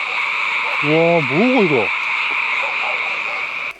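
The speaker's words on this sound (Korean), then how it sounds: "개구리 소리가 미쳤어요" Frogs croak loudly at night on Gubongsan mountain in Geumsan, South Korea, in a sharp rising, wobbling call, with a steady chorus of insects or frogs droning behind; a voice speaks briefly.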